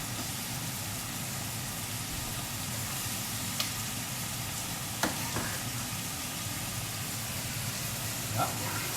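Chopped vegetables tipped into a pot of already-cooked veal, a blanquette-style dish, set up a steady broad sizzle that runs throughout, with a few faint clinks and knocks of utensils and no talking.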